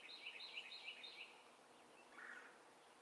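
Birds sing faintly outdoors, a few quick high chirping phrases repeating in a short series, then a single softer call after a pause, over quiet background hiss.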